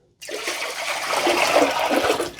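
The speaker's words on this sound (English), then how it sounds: "let's take the dirty water out" Dirty water pours out of the tank of a Roborock Q Revo robot vacuum-and-mop dock. A steady, splashing gush starts suddenly and keeps flowing without pause.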